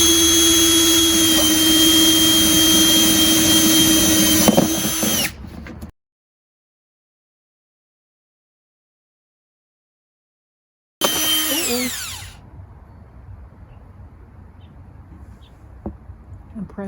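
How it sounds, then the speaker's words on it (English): A power drill bores holes, running loud and steady at close range with a high whine, then cuts off abruptly. After a silent gap it starts again in a short burst and winds down. Quiet room noise follows. "So I'm going to start drilling the holes in here."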